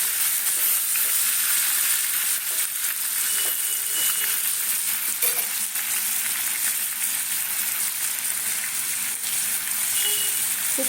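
Onions and tomatoes fry in oil left from frying rohu fish, giving a steady, loud, close sizzle that runs unbroken throughout, with faint scrapes of stirring.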